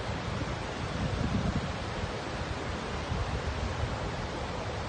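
A waterfall in Geiranger, Norway, tumbles down a mountainside, making a loud, unbroken broadband roar that holds steady throughout.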